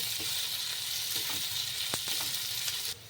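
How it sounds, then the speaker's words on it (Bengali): Chopped onions and coriander stems frying in a pan for egg do-pyaza, a close, steady crackling sizzle with a few light stirring scrapes, dropping in level just before the end. "এগুলো একটু লাল হওয়া পর্যন্ত ভেজে নেব"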